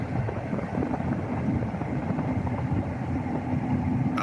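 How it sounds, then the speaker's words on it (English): John Deere S790 combine harvesters cutting wheat make a steady, broad mechanical drone with wind buffeting. The rumble holds even and unbroken throughout, with no talk. "So you can see some of the combines cutting out here."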